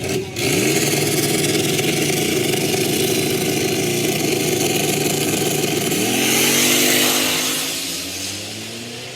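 Diesel BMW at a no-prep drag racing event, its engine droning loudly and steadily up close, then sweeping up through a rising rev before easing off toward the end, with no voices.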